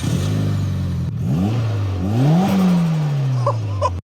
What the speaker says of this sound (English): We got the car running.